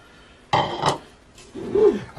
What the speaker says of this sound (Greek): Ανακατεύουμε με κυκλικές κινήσεις να ενσωματωθούν τα υλικά μας.